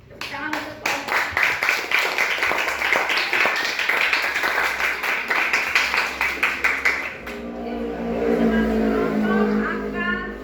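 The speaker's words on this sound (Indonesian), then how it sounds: "Tepuk tangan untuk kelompok." A classroom of students claps for a student group, giving a quick, rhythmic burst of many hands for about seven seconds before a teacher's voice takes over.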